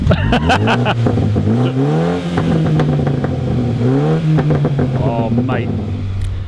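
Mini JCW Clubman fitted with a Remus race exhaust revs hard and loud close by, the engine note climbing and falling in repeated blips while excited voices exclaim over it.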